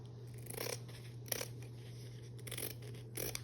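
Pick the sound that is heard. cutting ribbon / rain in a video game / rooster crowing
cutting ribbon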